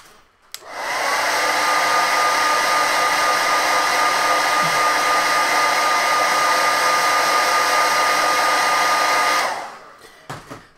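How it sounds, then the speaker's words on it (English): A hairdryer blows loud and steady for about nine seconds while drying base-tone paint on a miniature, switching on and off abruptly with a constant whine. "I'm going to hit this with a hairdryer, so apologies for the loud annoying sound."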